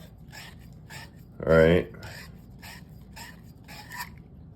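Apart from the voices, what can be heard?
sanding end of copper pipe with sanding cloth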